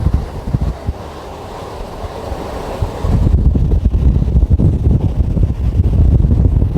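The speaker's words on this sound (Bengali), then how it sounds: "দেখতে পাচ্ছেন প্রচুর হাওয়া দিচ্ছে কিন্তু।" Strong wind roars past a moving local train on the Krishnanagar to Ranaghat line, a loud continuous rushing blast that grows heavier and rougher partway through.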